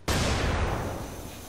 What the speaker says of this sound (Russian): Что ж там за взрыв такой огромный был, что меня аж откинуло.